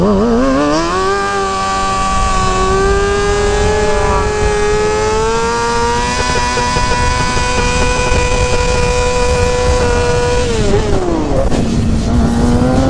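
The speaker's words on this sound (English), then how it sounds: "He said burn out the middle of that tire too." A 2020 Kawasaki 636 stunt motorcycle holding a burnout, its engine screaming at sustained high revs with rising and falling pitch over a constant roar of spinning tire, loud and close, then dropping off near the end.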